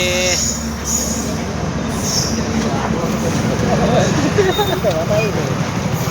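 A train rumbles close by with clattering wheels and a faint metallic squeal, while people talk over the steady rail noise.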